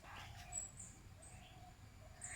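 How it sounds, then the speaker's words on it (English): A bird on its nest gives short, high warning calls near its eggs, faint and intermittent chirps scattered over quiet background. "That bird gives me a warning call that I am too close to the eggs"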